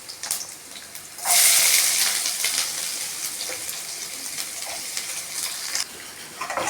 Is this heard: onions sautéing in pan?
yes